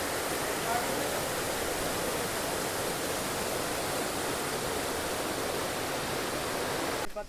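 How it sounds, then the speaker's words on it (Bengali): A waterfall and fast-flowing stream at Cherrapunji, Meghalaya roar as a dense, continuous rush of water, loud and close, holding steady before cutting off abruptly at the end. "এই জায়গাটা এখানে জলটা চলছে দেখো।"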